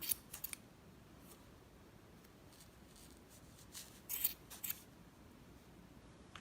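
Scissors snip through yarn while knots are tied and trimmed, a quick burst of close, crisp cuts at the start and another cluster of snips a few seconds later against a quiet room.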